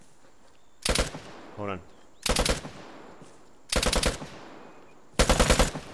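In the video game Vigor, four loud bursts of rapid automatic gunfire come at roughly even intervals, each a short rattling volley, with a brief spoken phrase between them.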